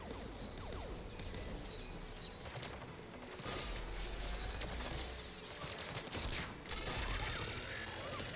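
Heavy, sustained gunfire from a weapon in the video game Mass Effect 3, rapid bursts and impacts continuing loudly throughout amid chaotic combat noise.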